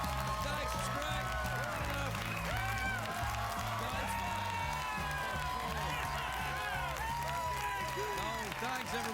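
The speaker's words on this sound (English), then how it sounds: "let your applause die away quite naturally" A late-night talk show studio audience applauds and cheers in a sustained, even wave of clapping with whoops rising from the crowd, steady and full for the whole stretch.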